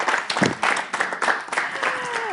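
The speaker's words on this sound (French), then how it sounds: "Des acclamations plus que ça, cher public." Audience applause and cheering at a live French-language reading competition show, bursts of clapping and crowd cheers rising and falling, mixed with a voice speaking over them.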